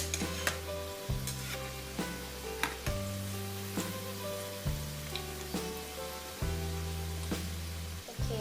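Meat-and-potato korokke croquettes frying in hot oil in a home kitchen, a steady close sizzle with crackles and bubbling, broken by a few clacks as the pieces are turned, with no talk.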